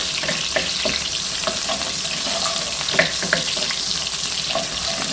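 Chopped small onions sauté in a pan while being stirred, a steady frying sizzle up close with intermittent spoon clicks and scrapes against the metal.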